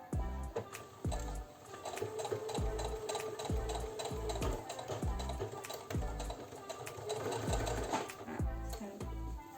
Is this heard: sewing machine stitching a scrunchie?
yes